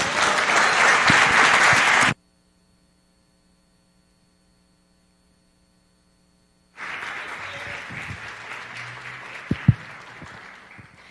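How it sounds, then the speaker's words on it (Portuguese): A church congregation applauds during a worship service, a burst of clapping that cuts off into a long quiet gap with electrical hum, then resumes more loosely with a few sharper claps standing out. "Se os irmãos quiserem oferecer as palmas ao Eterno, esteja oferecendo."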